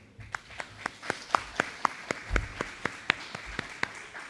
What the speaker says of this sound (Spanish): pido un aplauso, por favor